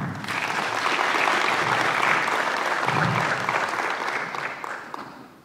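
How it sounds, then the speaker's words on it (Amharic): Crowd applause at a book launch event: a dense, sustained burst of many hands clapping that holds steady for about five seconds, then tapers off at the end. "አጨብጭቡላት።"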